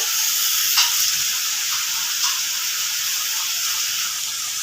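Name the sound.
frying chopped vegetables in oil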